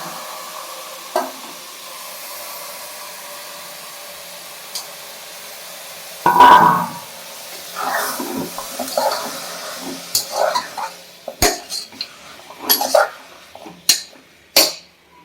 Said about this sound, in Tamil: காய்கறி போட்டு வதக்க வேண்டும்